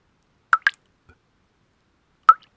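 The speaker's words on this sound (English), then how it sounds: "The sound was faint but clear, like a leaky faucet." Water droplets falling one at a time like a leaky faucet: two quick plops close together, a long silent gap, then a third clear drip, crisp and isolated.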